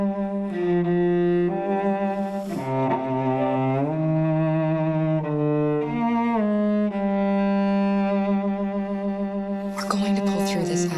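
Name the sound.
two-syllable Kara motif over theme, Detroit: Become Human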